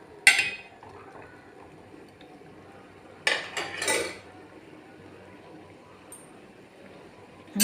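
A few scattered clinks of a spoon against a pot, with short scraping stirs in between and quiet pauses.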